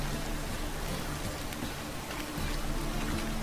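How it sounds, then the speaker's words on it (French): Steady rain hissing continuously, a dense even patter with a low rumble underneath, with no voices. "4 heures du mat, il pleut."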